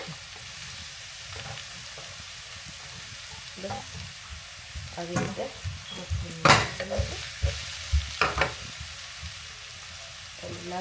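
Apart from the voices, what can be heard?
mushrooms frying and being stirred in hot oil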